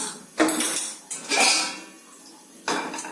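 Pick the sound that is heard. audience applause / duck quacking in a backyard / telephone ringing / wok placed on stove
wok placed on stove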